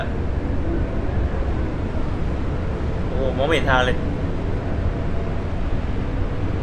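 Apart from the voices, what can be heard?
storm wind while driving in video game Endless Suburbia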